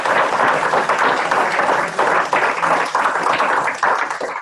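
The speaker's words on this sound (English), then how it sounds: "can we please give a round of applause for our panelists?" A room full of people applaud panelists after a blockchain and cryptocurrency discussion, giving dense, loud, continuous clapping that holds steady throughout with slight swells.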